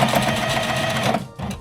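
Sewing machine stitching corset fabric, a loud close continuous motor whir with rapid needle clatter that stops briefly and then restarts.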